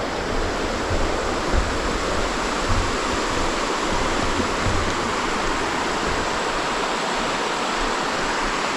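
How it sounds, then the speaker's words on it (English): A small creek flows in southern Washington, heard as a steady, dense rush of water close by that runs unbroken and alone the whole time. "Nice little creek."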